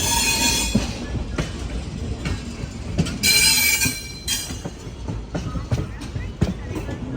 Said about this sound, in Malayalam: ഇപ്പോൾ കോയമ്പത്തൂർ ജംഗ്ഷൻ റെയിൽവേ സ്റ്റേഷനിലേക്ക് നമ്മുടെ ട്രെയിൻ എത്തിക്കൊണ്ടിരിക്കുകയാണ്